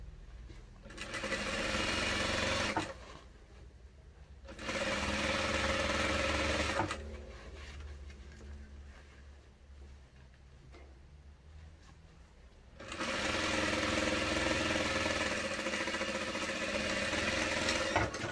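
Sewing machine stitching fabric in several long, steady runs of loud, continuous whirring, separated by quieter pauses as the sewer guides the seam.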